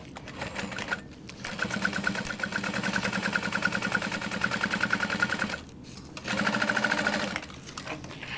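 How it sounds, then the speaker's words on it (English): Close and steady, a sewing machine runs top stitching along the top edge of a sling bag, humming for several seconds, pausing briefly, then resuming in a louder final run. "And then top stitch the top edge."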